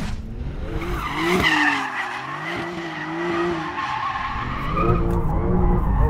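A 2021 Porsche 911 Turbo S slides with its tires skidding and squealing in long wavering screeches, loud and close over the steady drone of the engine, with no talking.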